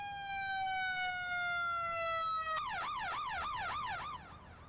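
Emergency vehicle siren from an Emergency 4 video game mod set in upstate New York, the EQ2B type: a steady rising tone that switches to a fast, loud wailing yelp, alone with no talk.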